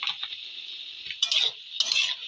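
Vegetables stirred in a cooking pan for a spring onion stalk chorchori, with scraping strokes of a utensil around 1.2 and 1.8 seconds over a steady background hiss.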